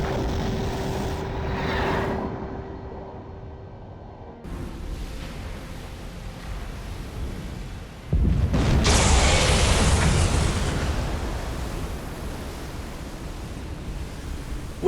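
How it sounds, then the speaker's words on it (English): A torpedo strike detonates and sinks a ship during a World War II submarine engagement in Silent Hunter 4, heard as a loud, sustained broadband roar that swells midway and rumbles on after quieter, muffled underwater ambience. "Imagine my surprise when she blew up after a hit from a single torpedo."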